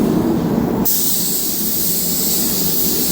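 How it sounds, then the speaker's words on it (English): A spray gun lays a first coat over a car's repair area, giving a steady, loud hiss that continues through the whole stretch with no talk and shifts in tone partway through. "So, here we go with the first coat of paint."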